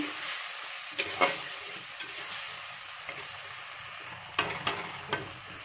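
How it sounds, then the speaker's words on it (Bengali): Masala for chili chicken stir-fried in a pan, a continuous hiss of sizzling oil punctuated by several sharp spatula knocks and scrapes against the pan. "মশলাটা দিয়ে এবার ভালো করে এটা কষিয়ে নেব।"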